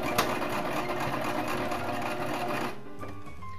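A sewing machine stitches through fabric and elastic in a fast, loud mechanical chatter that runs steadily for nearly three seconds, then stops abruptly, leaving quieter low rumble.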